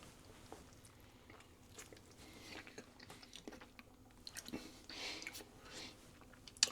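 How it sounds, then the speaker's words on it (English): Biting and chewing a calorie-controlled homemade fakeaway kebab, close crunchy bites and soft wet mastication in an irregular rhythm, fairly quiet with small clicks. "Let's give it a chomp and see."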